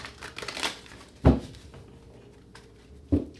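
A deck of tarot cards is shuffled up close, a brief papery rustle followed by two sharp knocks of the cards squared against a surface, with no voices.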